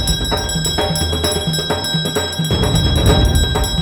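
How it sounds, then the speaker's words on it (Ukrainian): A small bell jingles in a steady rhythm over a lively musical backing, repeated shakes ringing clearly throughout. "зайчик підстрибував, дзвенів своїм дзвоником"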